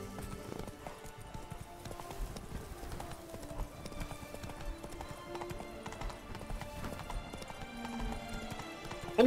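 A horse gallops in The Witcher 3: Blood and Wine, steady clip-clop hoofbeats running continuously at moderate volume beneath game ambience and music.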